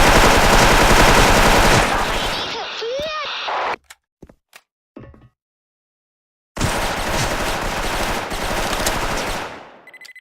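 Sustained automatic gunfire in the online shooter Special Force roars loud and dense for several seconds, stops into near silence broken by a few isolated shots, then resumes in another long burst, with voices mixed in.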